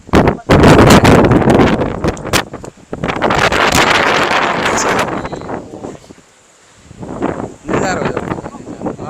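Strong wind gusts across Wilson Hill in Dang, near Dharampur, roaring loudly against the microphone in bursts, easing briefly to a lull before picking up again, with people talking in between.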